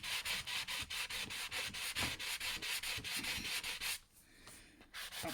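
Rhythmic back-and-forth strokes of a sanding pad with WD-40 on a Mora knife blade, close and steady, about a dozen quick rubs before a brief pause and a couple more strokes.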